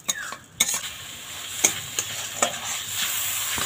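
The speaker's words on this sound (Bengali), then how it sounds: "এইভাবে নেড়ে চেড়ে পুর বানিয়ে নেব।" A spoon stirs a coconut and sugar filling in a hot pan, giving a string of distinct scraping strokes over a soft underlying sizzle, close and fairly loud, with no talking.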